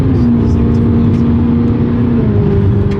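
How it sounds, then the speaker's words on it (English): A car engine drones loudly and steadily from inside the vehicle, its exhaust rumbling with a brief rise in pitch near the end. "Gotta be careful because this exhaust is loud"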